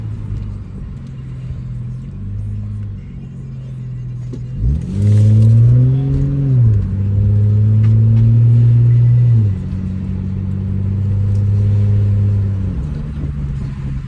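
The engine of a 2007 Lincoln MKZ, a car with a blown fuse 49 fault, idles, then revs up sharply and holds a higher pitch before easing back down to idle, loud and close with no talking.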